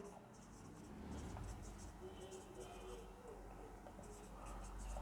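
Marker or pen strokes scratch across a board in short, repeated bursts during a derivative lesson, faint and close, under a teacher's continuous speech.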